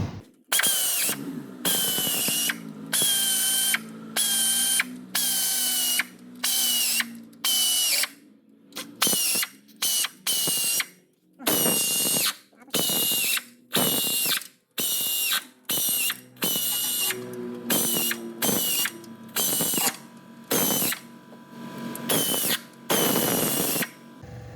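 Bolts on a Mazda RX-8's replacement oil pan are run in with a hand ratchet, giving close, loud bursts of quick clicking separated by short pauses. The bursts repeat steadily throughout with no talking.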